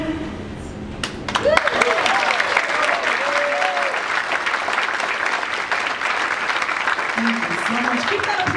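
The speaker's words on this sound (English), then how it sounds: "Keep that applause going for this magnificent orchestra behind me." Loud, sustained audience applause for the orchestra at a diva tribute concert, rising sharply after a sung phrase and holding as a dense roar of clapping, with a voice speaking over it.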